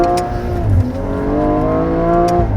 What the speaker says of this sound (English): if you floor it now, it's going to be more responsive